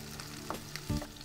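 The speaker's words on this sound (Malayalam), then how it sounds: "ഈ മിക്സ് നന്നായിട്ടൊന്ന് വഴറ്റിയെടുക്കാം." Onion and green chilies sauté in a pan, a soft sizzle with faint stirring scrapes and a few louder knocks near the end.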